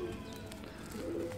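Young pigeon chicks, hatched within the week, give soft, low cooing calls, a brief murmuring burst that is faint and close, with no talking.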